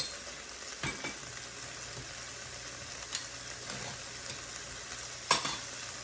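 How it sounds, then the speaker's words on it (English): Tomatoes going into a pot of simmering chili with beans, a soft steady sizzle under a few scattered clinks and stirring knocks, fairly close, with no talking. "Now we're gonna go and add our tomatoes."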